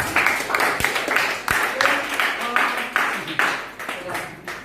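Brisk applause from a small group, steady rhythmic clapping that lasts a few seconds at close range.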